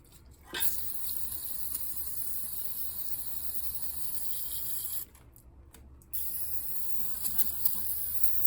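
A close aerosol can of carburetor cleaner hisses steadily for several seconds, spraying carburetor parts, stops briefly, then resumes with short bursts; no talking.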